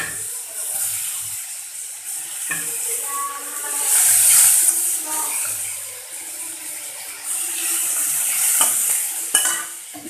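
Onions, added to a pan of oil already hot and smoking from frying fish along with dried chillies, sizzle loudly and crackle while being stirred, the hiss swelling and easing.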